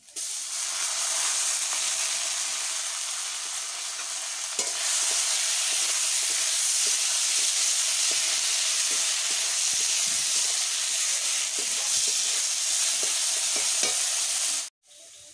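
Lentils for a jhinge muri ghonto sizzle loudly in a hot pan, a continuous hiss broken by faint stirring taps, then cutting off sharply near the end, with no voices.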